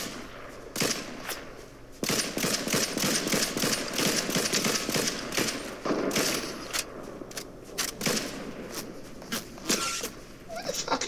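Rapid automatic gunfire from a shooter video game rattles in dense, loud bursts separated by brief gaps, close and sharp throughout.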